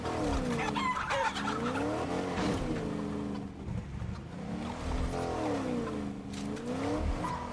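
A truck drives in a Fortnite tycoon game, its engine whining up and down in repeated swooping pitch sweeps, with chicken clucks and crowing mixed in.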